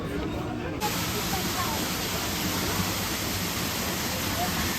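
A waterfall beside the path leading to the Manakamana cable car in Nepal pours as a steady, broad rushing hiss, continuous and fairly loud throughout.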